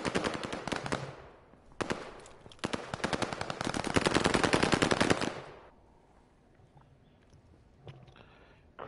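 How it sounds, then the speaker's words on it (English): Video game gunfire as a player empties all their ammo, loud rapid automatic bursts in several long strings, then a quieter stretch with faint scattered clicks. "I'm trying to empty all my ammo before the fucking time runs out."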